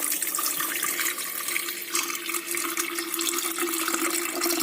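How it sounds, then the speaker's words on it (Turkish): Tap water runs steadily into a kettle during cleaning, a continuous splashing hiss that holds at an even level, close and fairly loud, with no voices over it. "Şimdi üstüne su ekliyorum."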